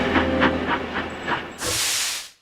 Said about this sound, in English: found Gordon halfway up, fuming steam from all sides